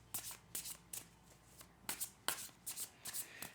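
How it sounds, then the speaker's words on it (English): Tarot cards being shuffled by hand in a series of quick riffling bursts, close and crisp, separated by short pauses, with no talking. "I'll just give them a good shuffle so you can see that it's done, and to randomise the cards"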